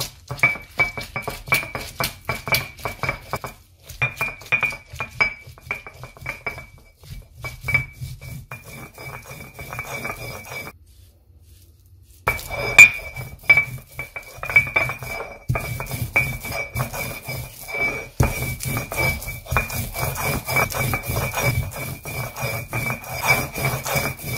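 Soaked dried red chillies are ground for sambal with a steady, rhythmic scraping and clinking, grinding in close repeated strokes with a brief pause partway through.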